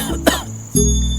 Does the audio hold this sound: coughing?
yes